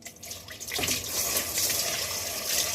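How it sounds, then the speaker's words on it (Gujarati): Pressurised water sprays against a washing machine filter during cleaning, starting with a brief quieter moment and then becoming a steady, loud, broadband hiss with splashing close by. "અંદરથી પાણીનું પ્રેશર મારી દેવાનું"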